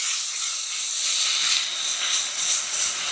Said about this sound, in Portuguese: Vamos deixar agora a carne fritar bem